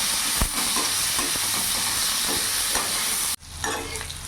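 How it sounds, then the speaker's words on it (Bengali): Bitter gourd slices fry in hot oil seasoned with salt and turmeric, a loud continuous sizzle with occasional stirring scrapes that cuts off abruptly near the end, leaving a quieter hiss. "উচ্ছেটাকে একটু ভাজা ভাজা করে নেব।"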